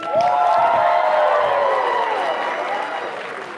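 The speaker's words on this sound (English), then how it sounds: "we're going to do a little round of applause" Audience applause and cheering at a national improv tournament, a dense wash of clapping with voices and tonal cries riding over it, steady and loud before easing slightly near the end.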